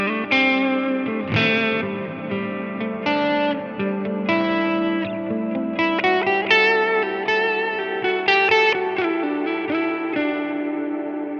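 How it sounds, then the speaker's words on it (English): Electric guitar played through a Line 6 Helix with a heavy, dark reverb, both low and high cuts set at 500 Hz, sustained chords and notes washing into long decaying tails, loud and continuous with no talking. "We have a reverb that's very dark and out of the way of our direct sound, even though it's very heavy on the decay and mix"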